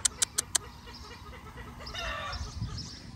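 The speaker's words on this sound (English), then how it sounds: "Okay, something's going on with the chickens." Farm chickens cluck and a rooster crows nearby, preceded by four sharp evenly spaced clicks, with clucking and fowl calls rising toward the end.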